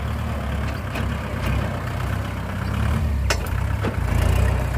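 A Kubota L5018 tractor grading stone onto the shoulder of a concrete road, its diesel engine running steadily and close, with a low continuous rumble and a couple of brief higher clanks near the end.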